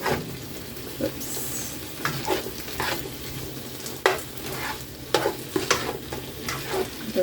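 Carne guisada is stirred in a pot, with repeated scraping and clinking of a spoon against the pot over a soft simmering sizzle, close and uneven in rhythm, no voices.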